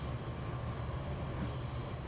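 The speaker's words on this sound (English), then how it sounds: "Alright, train rolling by." A train rolls past in the Railworks train simulator game on Marias Pass. The low rumble and rail noise stay steady and continuous throughout, with no voices.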